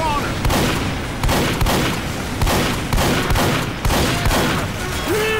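Sentry gun turret in Team Fortress 2 firing in dense, rapid bursts, loud and close, with sharp repeated pops and a few heavier thumps layered over the fire.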